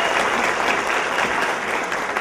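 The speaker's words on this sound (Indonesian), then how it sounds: "Tepuk tangan untuk mereka bertiga luar biasa" An audience bursts into dense, sustained applause for the management team at a corporate seminar, loud and continuous for the whole stretch.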